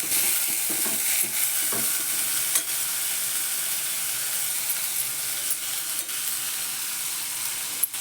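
Soaked chana dal sautéed in a pan gives a steady bright sizzle with soft stirring scrapes and occasional light clicks, close and continuous.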